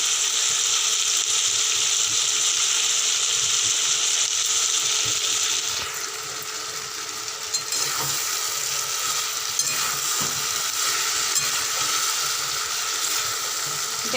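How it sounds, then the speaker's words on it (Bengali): Potatoes and eggplant fry in a pan over a medium gas flame, giving a steady, close sizzle broken by occasional scraping and stirring clatter, with a short dip in loudness partway through. "দেখো এখানে সবজিগুলো মোটামুটি কিছুটা হয়েছে ভাজা"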